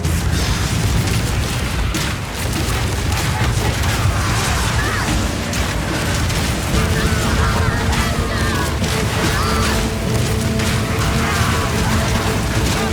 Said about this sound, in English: The gate mechanism has been destroyed.